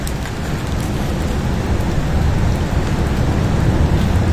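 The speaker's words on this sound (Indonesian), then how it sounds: "dari beberapa stalaktik yang terbentuk itu mengeluarkan air teman-teman, menetes air loh kayak gitu" Water drips and splashes steadily from limestone stalactites inside a cave, forming a dense, continuous patter like heavy rain with no voices, holding an even loudness throughout.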